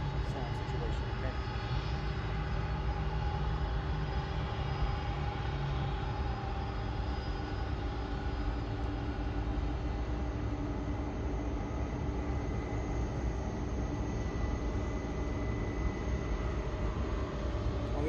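A steady, droning aircraft engine hum from an American Airlines airliner at Louisville's SDF airport, continuous and even throughout with tonal whine layered over low rumble.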